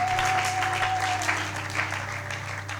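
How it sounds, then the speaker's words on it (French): A church congregation applauds steadily for the glory of God, a dense wash of clapping that holds loud throughout, with a low hum underneath. "Acclamons pour la gloire de notre Dieu"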